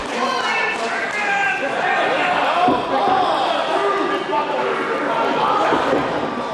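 A wrestler pounds on an opponent in a tag team championship match, repeated dull thuds landing in the ring beneath loud ongoing commentary talk and crowd noise.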